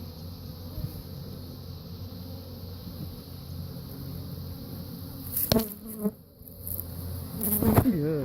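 Honeybees from a newly installed spring colony buzz steadily around the hive, a dense continuous drone close to the mic, broken near the end by a few handling knocks and brief rustles.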